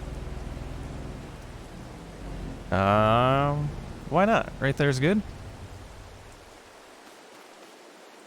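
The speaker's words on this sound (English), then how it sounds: "I think we'll wait out the rain before we do anything else" Steady rain patters across a farming game world, a continuous hiss from start to finish, with someone talking over the middle section.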